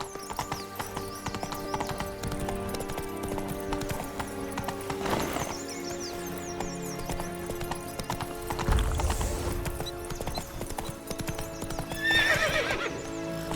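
Horse hooves clip-clopping at a steady gait in The Witcher 3, close and even, with a whinny midway and another burst of neighing near the end over quiet game ambience.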